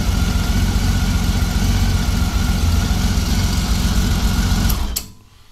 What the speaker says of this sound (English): Idle looks good.